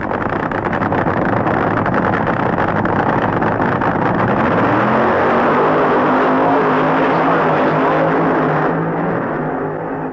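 A funny car makes a drag race run, its engine roaring loud and continuously for about ten seconds and shifting in pitch partway through, with heavy wind buffeting the microphone.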